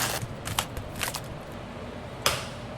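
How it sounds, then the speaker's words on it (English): A knife chops onions on a board in a few quick, crisp close cuts, then a single sharper chop after a brief pause. "Now I'm gonna cut up 4 onions."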